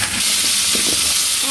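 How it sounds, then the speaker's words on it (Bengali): Fish frying in a pan for an eggplant curry makes a loud, continuous close-up sizzle and hiss with a few faint stirring clicks, and nobody speaks over it. "আর আমার মাছগুলো এখানে ভাজা হচ্ছে।"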